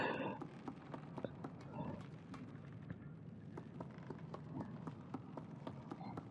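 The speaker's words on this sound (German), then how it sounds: "Und wie laut die Schritte sind" Heavy footsteps in the game Little Nightmares, a steady run of sharp, evenly spaced thuds clomping on a hard floor at a quiet overall level, with no talk over them.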